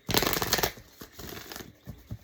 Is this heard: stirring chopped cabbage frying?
no